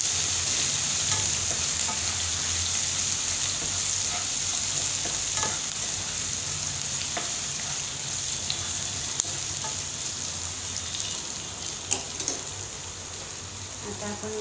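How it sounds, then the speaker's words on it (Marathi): Coarsely crushed ginger-garlic paste fries in a pan for a spicy tomato saar, with a continuous bright sizzle and occasional small pops, close and steady throughout. "व्यवस्थित फ्राय करा."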